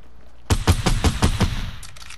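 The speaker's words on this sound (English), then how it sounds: "I missed all those shots" Video game gunshots, a quick close burst of about six punchy shots fired in steady rhythm, followed by faint distant shots.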